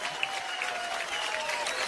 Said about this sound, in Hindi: परिणीति के लिए एक बार जोरदार तालियां हो गए